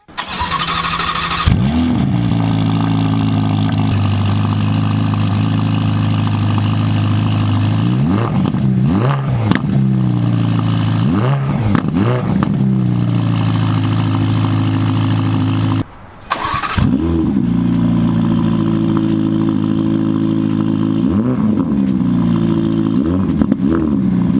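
A Ferrari Roma's turbocharged V8 starts up and idles loudly, then revs repeatedly in sharp bursts, cuts out briefly, restarts and revs again close up.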